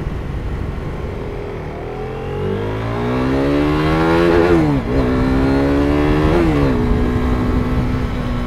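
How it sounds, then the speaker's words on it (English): A 2015 KTM RC390 single-cylinder motorcycle engine revving hard, pitch climbing steadily to the rev limiter, where it bounces and stutters twice before holding a high, buzzing drone, loud and close. "The rev limiter is a little bit more in your face on this bike."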